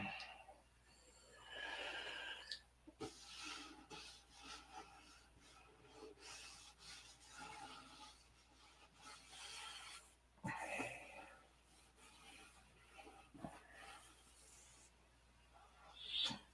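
Sandpaper rubs across a P-47 model airplane in slow, uneven rasping strokes, close and quiet, with pauses and small handling knocks between passes.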